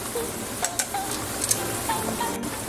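Spaghetti with sausages sautéing in a frying pan, a steady close sizzle with a few soft scrapes and clinks of stirring over it, no talk.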